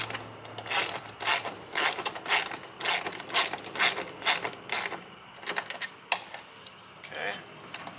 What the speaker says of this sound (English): I'm going to go ahead and tighten these up just a little bit more